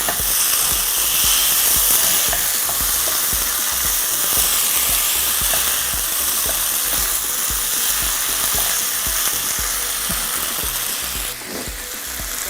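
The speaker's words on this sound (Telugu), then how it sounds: "ఇప్పుడు chicken వేసుకుంటున్నాము half KG of chicken వేసుకుంటున్నాను ఇది బాగా రోస్ట్ అవ్వాలండి" Half a kilo of chicken sizzles and fries steadily in a hot pan, a loud continuous hiss with crackling and occasional stirring scrapes throughout, no talking, for a drumstick chicken curry.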